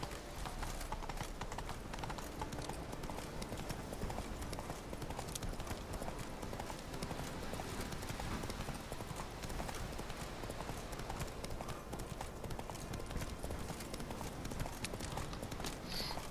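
Horse hooves clip-clop steadily in a quick, continuous gallop in The Witcher 3 video game, a fairly faint rhythmic patter over constant in-game ambience.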